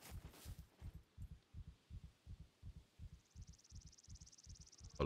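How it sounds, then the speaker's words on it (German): A heartbeat in the SCUM survival game thumps in a steady, evenly spaced double rhythm, low and muffled, about a dozen beats in a quiet scene, with a brief faint hum rising near the end. "Vor lauter Herzschlag."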